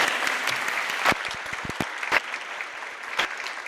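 A graduation audience at a middle school ceremony breaks into dense, continuous applause, many hands clapping at once with a few sharper claps standing out, filling the hall without any talk.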